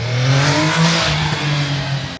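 A 2024 MV Agusta Superveloce S motorcycle engine fires up for the first time, catching quickly and revving with a strong, close, throaty drone that rises and dips before cutting off abruptly at the end.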